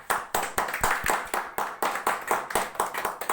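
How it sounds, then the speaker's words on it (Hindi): A motivational-seminar audience claps in a quick, steady rhythm, about a dozen sharp, evenly spaced claps in a row, fairly close and with no talk over them. "एक बार इनके लिए जोरदार ताली होना चाहिए।"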